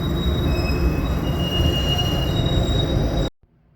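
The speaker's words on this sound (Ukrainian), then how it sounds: "тут трамваї заїжджають прямо на станцію метро" Wheels of a Toronto streetcar squeal loudly as it pulls into a subway station, a continuous high-pitched screech over rumbling rail noise that cuts off abruptly near the end.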